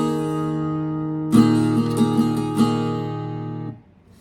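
An acoustic guitar rings out a sus4 chord, a sustained bright chord, freshly strummed with a few string accents, then abruptly muted.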